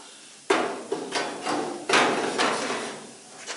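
Hammer blows ring out against the sheet metal of a 1968 Ford Mustang's rear panel, a sharp strike followed by several more irregularly spaced hits, each leaving a brief metallic ring, close and loud.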